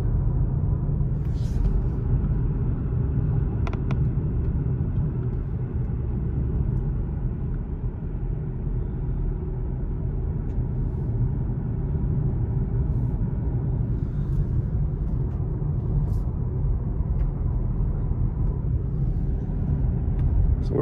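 A car drives along a snowy lakeside road in Big Bear, giving a steady low engine and road rumble throughout with faint occasional higher noises and no talking.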